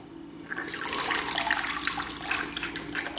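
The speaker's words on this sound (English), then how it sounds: "if you push back here on the fin, you can also fire water." An Octonauts Gup A bath toy shoots water from its fin with a close, steady hissing splash that starts abruptly and runs for a few seconds, loud and alone.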